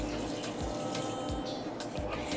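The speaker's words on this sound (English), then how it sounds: "And I'm going to add my water to it." A steady stream of water pouring and splashing into a blender, continuous and fairly loud throughout, with no voices.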